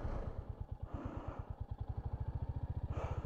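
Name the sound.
Royal Enfield Hunter 350 motorcycle riding across gravel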